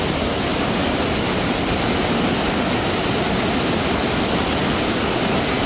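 A rising mountain torrent in flash flood rushes with a dense, constant roar that stays loud and close throughout, with no voices over it.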